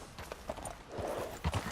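Hooves of a mahogany bay Tennessee Walker horse in a video game clip-clop in a few quick, fairly close steps, with a brief heavier thud near the end and no talk over them.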